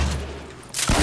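Grenades go off in a shooter video game: a thin rumble of gunfire, then a loud, close blast erupts in the final moments.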